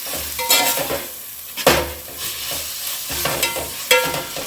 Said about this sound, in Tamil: நல்லா ஒரு தொக்கு பதத்துக்கு நல்லா வதக்கணும்.